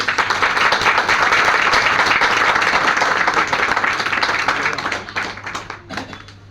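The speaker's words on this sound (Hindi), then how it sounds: "मैं चाहूंगा कि अब तक की सबसे शानदार ताली हम सबके गुरु के लिए।" A large audience at a success celebration meet in Sirhind, Punjab claps for their guru in a loud, dense burst of applause that holds steady, then thins and fades out near the end.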